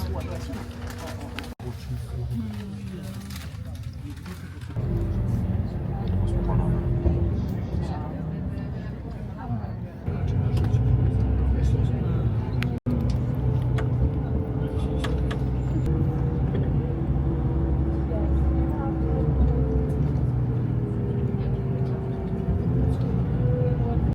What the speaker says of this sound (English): This is the bus.